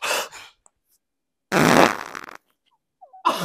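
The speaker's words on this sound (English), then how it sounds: "Should I fart on the mic?" A fart blown straight into the microphone sounds as a loud, close, rasping burst lasting under a second, with short bursts of voices before and after it.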